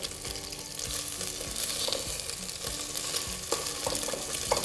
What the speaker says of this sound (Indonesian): Jadi kita just a short pan fry.